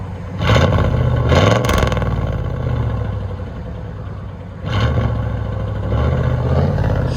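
A 1991 GMC Sierra 1500 extended cab with a 5.7L V8 and Flowmaster Outlaw exhaust, 2 1/4 inch pipe and 3.5 inch rolled tip, idles with a deep burble, revs twice near the start, settles, then revs again.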